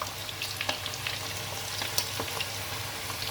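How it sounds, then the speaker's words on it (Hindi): Mutton koftas for biryani shallow-frying in oil, with a dense, close sizzle and scattered sharp pops and spatter crackles. No one speaks. "जो हमने कोफ्ते बना के रखे थे वो इसको फ्राई करेंगे।"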